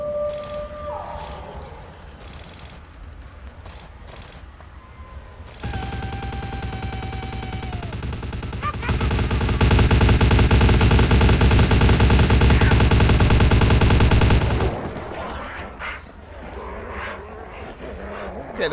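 Loud sustained gunfire in the video game Vampire: The Masquerade - Bloodlines, a dense roaring burst swelling for several seconds amid game ambience and rumble, with voices and noise before and after.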